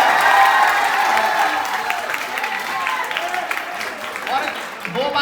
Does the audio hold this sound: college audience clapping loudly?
yes